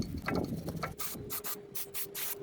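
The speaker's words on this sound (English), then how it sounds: "clean here on the brake caliper bracket where the brake pads make contact. This is a metal brush here." A metal wire brush scrubs the rear brake caliper bracket of a Mercedes ML350 where the pads sit, giving a run of quick, close scratchy strokes in bursts with no talking.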